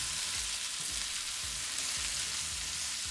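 Cajun shrimp, sausage and potatoes fry in a skillet with a steady, dense sizzle, while soft low thumps and scrapes recur as the mix is tossed around, close and continuous with no voices.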